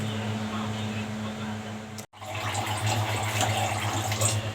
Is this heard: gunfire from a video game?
no